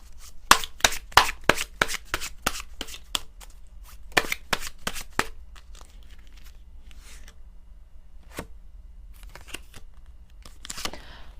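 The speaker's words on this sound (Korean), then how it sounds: "우리 이웃님에게 드리는 마지막 희망의 조언 카드 역시나 뽑아봐야겠죠?" Tarot cards shuffled by hand before drawing an advice card: a quick run of crisp riffling bursts in the first few seconds, then a few scattered card flicks and slaps, close and fairly quiet with no talk.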